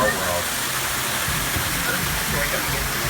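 Steady, loud rushing wash of a waterfall passing beside a canal boat ride through Disneyland's Storybook Land, a broad unbroken roar with no voices over it.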